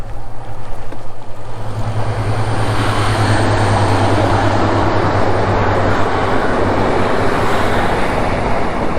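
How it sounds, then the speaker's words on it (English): A loud, continuous rumble of a train rolling past nearby on the line between Exmouth and Topsham along the Exe Estuary, with a steady low engine drone and no voices. "that's the train will be trundling back in a few minutes"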